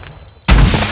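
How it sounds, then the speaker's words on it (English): A flash grenade goes off in a first-person shooter, a single loud close blast that cuts in after a quiet moment and rings on to the end. "Throwing flash grenade!"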